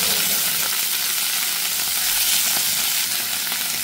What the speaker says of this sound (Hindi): मशरूम जो है ना वो प्याज और लहसुन के साथ फ्राई करेंगे